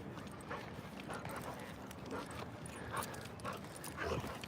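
An excited dog whimpers and yips amid a busy outdoor crowd on a college campus on a warm, hazy day, its short bursts rising over steady background chatter and footsteps.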